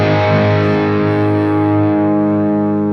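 A distorted electric guitar plays a riff with the volume rolled down, sustained chords ringing steadily with a thick, saturated tone.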